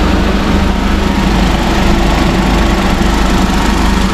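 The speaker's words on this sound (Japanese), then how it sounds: "エンジンね、 かけときます。" A Suzuki Wagon R (MH23S) engine runs steadily at idle during air-conditioning servicing, a loud constant mechanical drone with a rapid low rumble and no talking.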